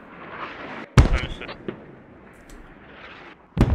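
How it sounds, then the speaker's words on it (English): In the military shooter Squad, smoke mortar rounds land in two heavy thumps a few seconds apart, each trailing a short rumble over a low, noisy field background. "There's a little bit of a clustered mortar, smoke mortar"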